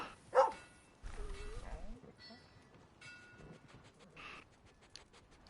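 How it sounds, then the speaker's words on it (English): A dog at a campsite gives a sharp bark and then whimpers and pants quietly, with people talking softly nearby; faint and intermittent overall. "Let's pet the dog."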